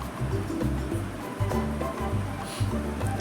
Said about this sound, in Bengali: চিড়েটাকে ভালো করে 2-3 বার জল দিয়ে আমি ধুয়ে নেব।